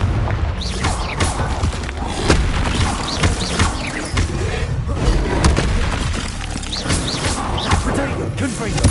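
Fiery Confringo spell blasts from Hogwarts Legacy gameplay, dense booming and crackling impacts in a loud continuous battle mix, with a voice speaking over the action throughout.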